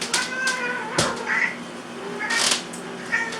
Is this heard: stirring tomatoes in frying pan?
no